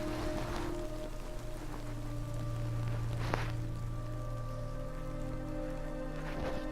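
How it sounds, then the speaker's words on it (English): Steady rain falls in the video game Death Stranding, a constant even hiss of drops on surfaces with faint tonal game ambience beneath and a few brief louder swells, no voices. "Why, go walking out like in the rain like that?"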